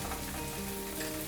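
Tender raw bottle gourd shoots sizzle in a frying pan for a fish curry, a short, fairly quiet and even crackling hiss without pauses or voices.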